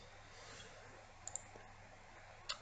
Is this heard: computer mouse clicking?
yes